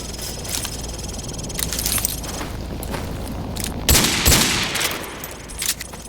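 Pistol shots crack in Call of Duty Modern Warfare 2, a handful of sharp loud reports spaced irregularly over a busy game soundscape, one heavier pair standing out near the end.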